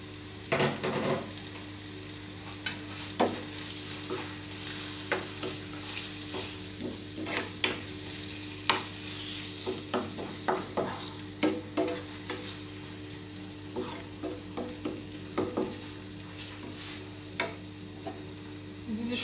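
Chicken pieces sizzle steadily in a hot pan with spices while a utensil scrapes and stirs in irregular clacks and scuffs, close and fairly quiet, with no talking.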